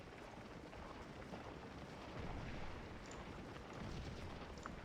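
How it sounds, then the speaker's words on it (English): Dense, rumbling cannon fire roars steadily in Scourge of War Gettysburg, a Civil War battle game, as canister rounds pound away in a continuous low barrage with faint crackles on top, swelling louder for a few seconds midway and again near the end. "Yikes, that canister fire."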